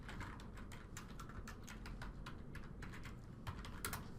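Rapid keystrokes on a computer keyboard while entering a student's email, ID, login and password, a steady patter of clicks close by with a few louder taps, no voices.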